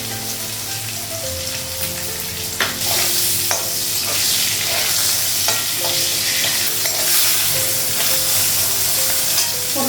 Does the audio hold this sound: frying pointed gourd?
yes